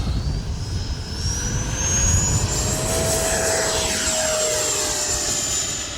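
An FMS Afterburner V4 radio-controlled model jet takes off, a loud, high electric ducted-fan whine rising in pitch over steady wind and ground noise, then sweeping past and holding as it climbs away.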